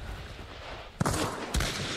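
Gunfire in the online shooter Hunt: Showdown, with two sharp shots about half a second apart against a steady background of game ambience, loud and close.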